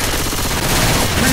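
Rapid automatic gunfire in Left 4 Dead 2 crackles continuously in a dense, loud burst lasting about a second, with no pauses between shots.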